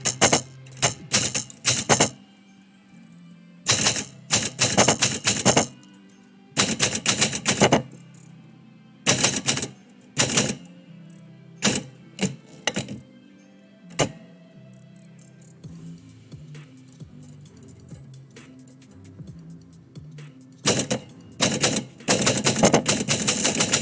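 Manual typewriter typing poetry live, with bursts of rapid mechanical key strikes separated by quiet pauses, a few isolated clacks, and carriage-return dings, recorded close and loud.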